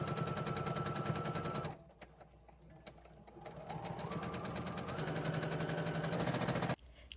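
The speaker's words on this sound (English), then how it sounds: "Then I took the sleeves and sewed up the long sides," Sewing machine stitching the long side seams of sleeves into tubes for a boho top, a steady rapid mechanical whir that slows briefly and then runs on again before stopping abruptly near the end.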